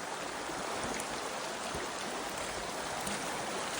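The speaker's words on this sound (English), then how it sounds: "Little fairy waterfalls." Small waterfalls and a rain-fed stream run through a mossy fern canyon on a rainy April day in Humboldt, giving a steady, close, broadband rush of flowing water with no speech.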